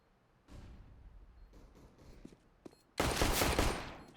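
Gunfire in a Counter-Strike match after the bomb plant: scattered quiet shots and clicks early, then a sudden loud burst of firing near the end.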